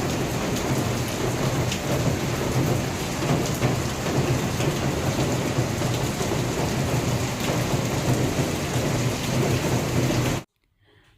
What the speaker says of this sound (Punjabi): ਬਹੁਤ ਜ਼ਿਆਦਾ ਬਾਰਿਸ਼ ਆ ਅੱਜ ਤਾਂ